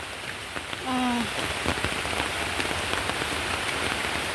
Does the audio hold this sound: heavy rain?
yes